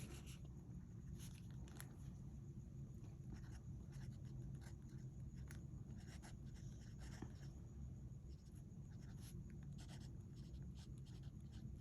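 A Sailor Shikiori fountain pen writes on Midori MD paper, giving a faint, close scratchy feedback of nib strokes in irregular short bursts over quiet room tone.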